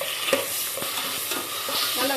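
Tomatoes sautéing in a pan with onions and green chillies for a brinjal gravy: a steady soft sizzle with a few stirring scrapes and clinks, fairly close, no talking.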